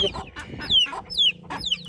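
Several chickens cluck noisily and close by in quick, overlapping bursts, with sharp rising squawks scattered among the clucks.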